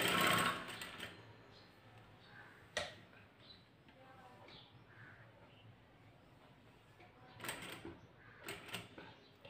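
A sewing machine tops-stitches the neckline of a blouse made from a narrow border strip, heard as faint, intermittent short runs of stitching with quiet pauses between bursts.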